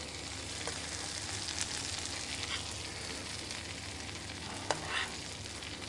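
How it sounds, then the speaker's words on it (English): Hapuku fish frying in a pan while melted butter is basted over it, giving a steady, close sizzle and crackle with a few sharper pops near the end; no talking. "I sort of baste the fish with it. So that's mixing with the fat of the hapuku, and then it melts"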